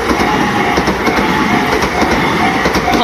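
A Tobu Railway train rolls through a level crossing in Kasukabe, loud and close, with steady clickety-clack of wheels over rail joints and a constant rumble throughout.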